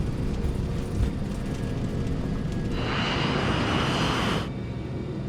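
A Nigerian airliner, flight 2120, roars down the runway on takeoff, a steady broad engine rumble with a brighter rushing surge building midway, close and loud, no voices.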